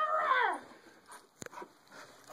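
A dog whimpers and whines in a high, wavering cry at the start, followed by faint squeaks and a sharp click, with quieter whimpers trailing off close to the microphone.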